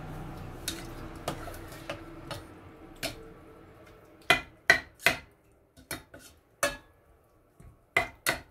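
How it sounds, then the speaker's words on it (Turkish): A spoon stirs okra with black pepper in a cooking pot, giving irregular sharp clinks and taps against the metal, sparse at first and then louder and quicker, with soft wet shuffling between. "karıştıralım"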